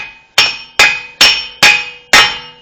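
A hammer taps the axle nut on the front wheel hub of a 2009 Ford Flex, five sharp metallic strikes at a steady, even pace, close and loud, each ringing briefly before the next.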